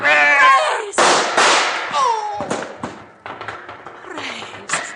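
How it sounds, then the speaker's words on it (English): Gunshots ring out during a radio drama shootout: several sharp, loud bangs in quick succession mixed with shouting voices and urgent dialogue. "Stacy took one of Lin Juan's bullets."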